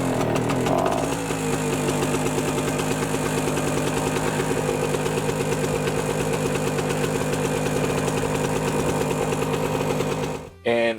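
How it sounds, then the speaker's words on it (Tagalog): A Norton PGi1100 inverter generator's small engine runs steadily and loudly on a test after carburetor and air cleaner work, a constant mechanical drone, cutting out abruptly near the end. "once the air cleaner is back in, we can now test run our generator"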